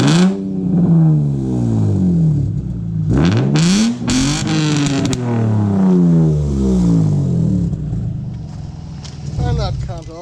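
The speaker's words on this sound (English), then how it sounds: "Can you actually give it the last few revs?" A car engine revved hard with the exhaust fully removed, loud and close, rising and falling through several sharp revs that swell and drop, with people talking over it throughout.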